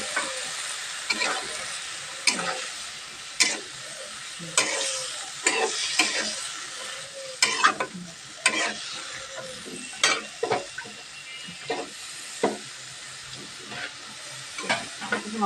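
Dried fish and chicken sautéing in a pan, a continuous close sizzle broken by repeated sharp scraping strokes of a spatula at an irregular rhythm, with no talk.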